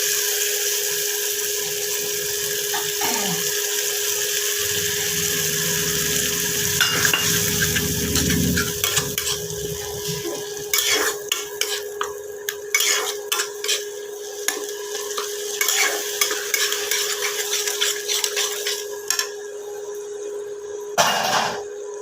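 Omelette batter sizzles and fries in a pan, a steady loud crackle broken by scrapes and clinks of a utensil against the pan, with no one talking.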